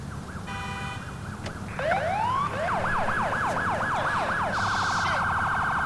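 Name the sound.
custom police siren, Federal Signal Omega replica, in a video game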